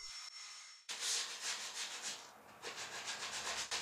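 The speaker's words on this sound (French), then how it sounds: "J'ai aussi poncé le reste du banc." Hand sanding of a rustic wooden garden bench to remove splinters and rough spots, a steady close scratchy rubbing in repeated back-and-forth strokes after a brief quiet start.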